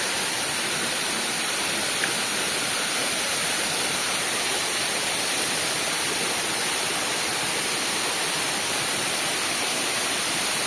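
A forest waterfall at a rural ashram in Odisha gives a dense, unbroken rush of falling water that stays loud and even from start to finish, with no voices.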